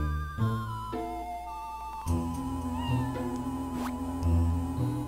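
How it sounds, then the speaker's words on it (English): A cat meows in the video game Final Fantasy: 4 Heroes of Light, a short rising and falling cry set against steady, tuneful game music. "what's a cat doing here?"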